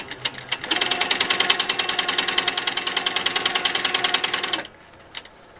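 Sewing machine stitching quilt triangles, starting with a couple of single stitches, then a fast, steady run of rapid mechanical clatter for about four seconds before stopping abruptly, followed by a faint click.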